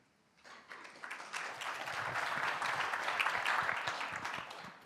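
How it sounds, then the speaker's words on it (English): Audience applause for a startup at a climate resilience pitch competition, clapping starting abruptly after a brief quiet moment and swelling into a steady, moderately distant crowd ovation. "please give a round of applause for the last speech"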